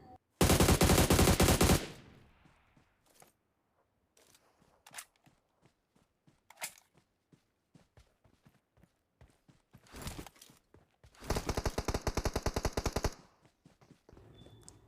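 Automatic gunfire in the mobile battle royale game PUBG Mobile: a long, loud burst, then scattered single shots and footsteps, followed by more sustained rapid-fire bursts, with no talking.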